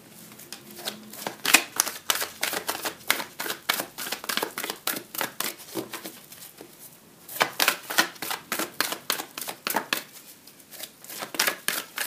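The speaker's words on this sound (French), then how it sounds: "Je cherche la carte, les cartes d'oracle." Oracle cards are handled and shuffled close by, a long run of quick, crisp riffling and flicking taps in uneven bursts with a brief lull partway through and no talk.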